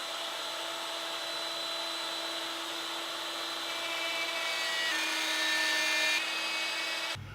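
A power tool cuts a stop groove into a wooden piece, a steady high whine with a tonal hum that keeps going for several seconds, rises slightly in pitch partway through, then stops abruptly.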